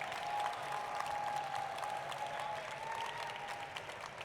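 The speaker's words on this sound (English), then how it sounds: "Let's give a huge round of applause to everyone that's been involved in making the Hudson Valley Regional happen this weekend." An audience at the Hudson Valley Regional event breaks into a sustained round of applause, dense steady clapping from a large crowd heard at some distance with faint cheering underneath.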